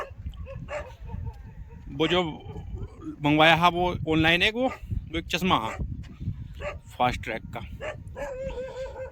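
Dogs bark and yip repeatedly along a village street, several sharp loud barks and whimpers overlapping someone talking throughout.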